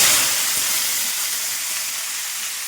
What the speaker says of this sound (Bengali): তেল চলে এসছে, দিয়ে দেবো 5 ফোড়ন আর একটা কাঁচা লঙ্কা ফাটিয়ে সবজির মধ্যেই দিচ্ছি